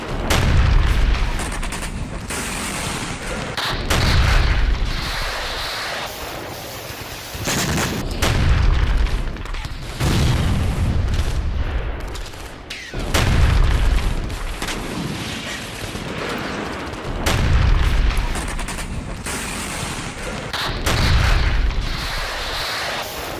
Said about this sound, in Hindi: प्लाटून पर गिरा आर्टिलरी शेल, दर्जन भर यूक्रेनी सैनिक इसकी चपेट में आए।